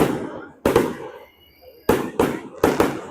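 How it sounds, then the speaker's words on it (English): Fireworks launched at a Broiler Festival 4th of July anniversary show, heard as a string of loud, sharp bursts and cracks with short gaps, fading echoes between, a voice briefly audible. "They're shooting off fireworks"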